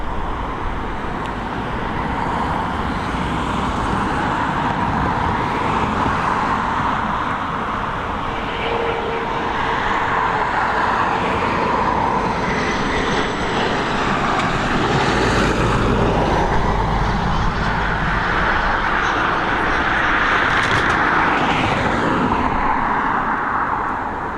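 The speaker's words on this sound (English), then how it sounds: "we've got this Embraer Phenom operated by NetJets" Embraer Phenom business jet operated by NetJets arriving at Dublin Airport, a steady broad roar of jet engine that swells and fades gently over the whole stretch, heard from some distance with faint road traffic behind.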